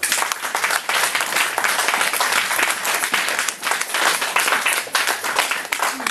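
A church congregation applauds steadily and loudly, dense sustained clapping from many hands filling the space without pause.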